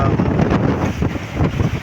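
Strong gusting wind at sea buffets the microphone in a loud, rumbling roar, with faint splashing water beneath it.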